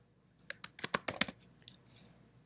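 Several crisp keystrokes on a computer keyboard entering a short word into a Photoshop dialog box, clustered in a quick burst of about eight clicks, close and clear in a quiet room.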